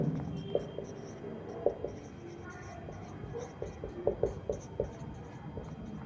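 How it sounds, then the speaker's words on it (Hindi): A marker or chalk scratches and taps across a board as a Class 10 geometry problem on triangles is worked out, giving short uneven strokes and clicks that grow busier toward the end, with faint background noise. "यहाँ पे लिख देना है।"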